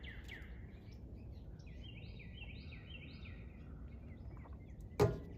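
Small birds chirping outdoors on a fine day, a series of faint, quick repeated tweets over a steady background hiss, with a sharp knock near the end.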